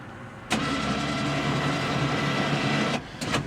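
KFI 80-inch Pro-V snow plow on a UTV being lowered: a steady electric motor whine from the lift winch runs loudly for about two and a half seconds, then cuts off, followed by a couple of brief clicks.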